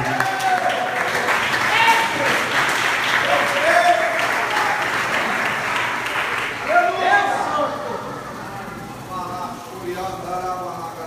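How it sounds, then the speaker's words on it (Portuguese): Church congregation applauding after a call to stand and praise, a sustained dense wash of clapping with voices calling out over it, thinning slightly toward the end. "fique de pé e aplauda o Senhor em nome de Jesus"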